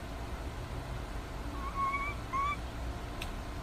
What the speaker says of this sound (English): Well, it looks like your birds are back.